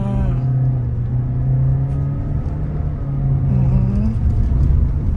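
A car engine is heard from inside the cabin while the car pulls away after a speed bump and accelerates toward 60 km/h, giving a loud, steady low rumble with a slowly rising hum throughout.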